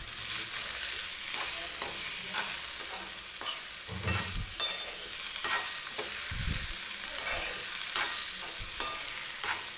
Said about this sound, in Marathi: गवारीची शेंग टाकल्यानंतर व्यवस्थित मिक्स करून घेते मी.